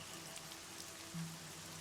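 Steady rain falls across an outdoor track field, a dense, even patter that is faint and continuous with no voices.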